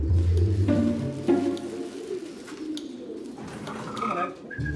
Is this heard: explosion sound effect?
no